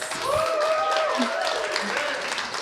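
Audience applause for Studio 9 students at the Inspired Word Cafe in Shaw, a steady wash of clapping with whoops and cheering voices running throughout the short stretch.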